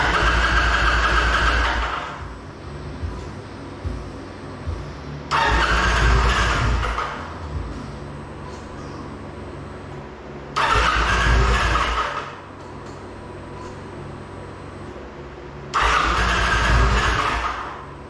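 A 2008 Kawasaki Vulcan 900 motorcycle engine cranks without starting in four loud, close bursts of about two seconds each, separated by quiet pauses, with faint hints of catching but no firing.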